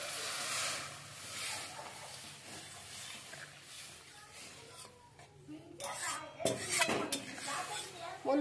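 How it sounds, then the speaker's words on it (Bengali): Water is poured into a pan of frying tomatoes, salt and turmeric at a roadside kitchen, giving a hissing sizzle with clinks of utensils, while a person talks and faint street noise sits in the background. "এবার আমি দিয়ে দিচ্ছি পরিমাণ মতো জল"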